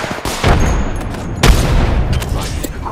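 A frag grenade blast in the video game Apex Legends, a loud booming burst at close range amid a dense wash of gunfire and battle noise, with a second sharp impact partway through.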